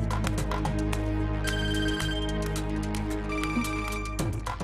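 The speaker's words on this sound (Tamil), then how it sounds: "Pick up the phone, pick up the phone," A telephone rings steadily with a bright repeating electronic ring, loud and close, over a sustained musical background with no talk.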